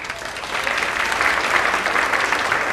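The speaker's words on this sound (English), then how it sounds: "we'll read their names and give them a quick round of applause" A crowd at a school activities awards evening gives a quick round of applause, a dense, even burst of clapping from many hands, loud and close with no talking over it.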